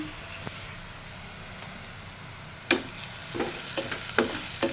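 Vegetables sizzle in a hot pan, with a low steady fry for the first half, then louder scraping stirs arriving in a few distinct bursts close by.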